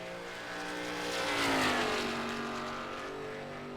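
Race car in the sim racing game iRacing at World Wide Technology Raceway at Gateway, engine note climbing as it accelerates hard down the straight, a steady moderately loud whine that rises and then eases.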